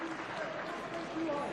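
Crowd applauding at Bayern's campus during a women's football match against Bremen, a broad steady wash of clapping from the stands with a commentator talking over it.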